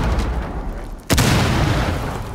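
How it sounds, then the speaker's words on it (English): A frag grenade detonates in the video game Rainbow Six Siege on the Presidential Plane map, a sharp, loud boom cutting through steady game noise and then rumbling on under it. "Frag grenade out."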